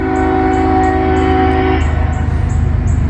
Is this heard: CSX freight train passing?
yes